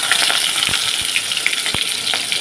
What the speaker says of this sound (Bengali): ফোড়নটা হয়ে গেছে এরপরে দেব পেঁয়াজ কুচি